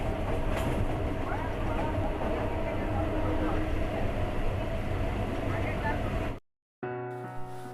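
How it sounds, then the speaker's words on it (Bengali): Train journey from Howrah to Asansol in India: steady rumble and rattle of a moving passenger train carries on for about six seconds, then cuts out and resumes after a brief silence. "হাওড়া থেকে ট্রেন ধরে আসানসোল স্টেশন"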